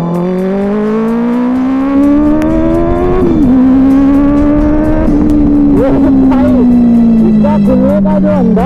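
A Benelli 600i sport motorcycle engine revs and accelerates up close, loud and steady with a rising and falling pitch through gear changes, as wind noise rushes past and a rider talks over it.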